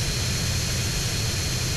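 Steady, loud roar of an airplane taking off in a pirated GTA video game, a continuous broadband jet rush with a heavy low rumble and no breaks.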